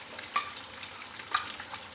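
Tomatoes frying in a chicken karahi give a soft, low sizzle with two quick scraping stirs about a second apart, close by and without any voices.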